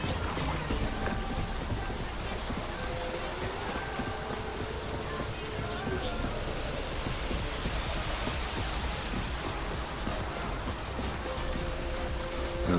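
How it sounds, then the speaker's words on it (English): Steady rain in The Witcher 3 pours continuously with a low rumbling underneath, dense and even throughout, with no voices. "Looks like rain."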